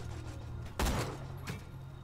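A single loud gunshot burst from Borderlands 2 game gunfire, followed by a fainter second shot over a steady low game background hum.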